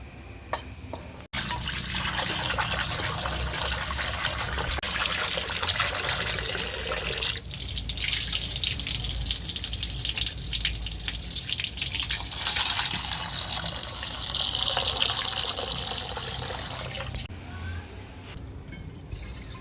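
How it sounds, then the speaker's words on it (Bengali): Cut crabs being rinsed clean under running water in a village kitchen, a continuous splashing, gushing flow with brief pauses and trickles, close by and fairly loud. "এবার পরিষ্কার করে ধুয়ে নেব।"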